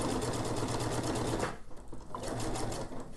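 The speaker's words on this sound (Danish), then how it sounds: "Og min symaskine, den begynder at lyde lidt bedre." A sewing machine runs while stitching a pocket in a home sewing setting, a steady close whirring rattle that briefly slows and dips in the middle before picking back up, with no voices.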